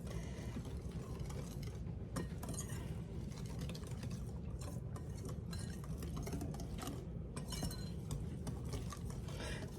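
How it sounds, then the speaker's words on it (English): A mixture is stirred gently by hand in a bowl, with a steady close scraping and swishing plus light clinks of the utensil against the bowl, and no talking. "we're going to gently just stir that in"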